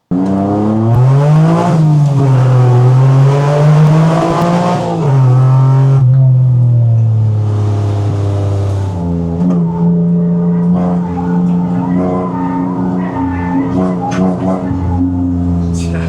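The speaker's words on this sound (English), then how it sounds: "this thing rips around the corners and in a straight line" A J-swapped Honda Integra with billet fuel rails, 650 cc injectors and a Walbro 450 fuel pump drives and revs hard, its engine note rising and falling through several pulls and gear changes, loud and close.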